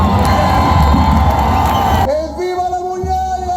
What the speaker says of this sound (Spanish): la gente le grita ¡Viva la muñalla!